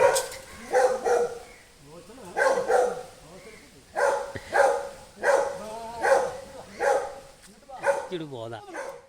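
A dog barks repeatedly at a house, a series of loud, close barks in clustered bursts of two or three, spaced by short pauses over several seconds.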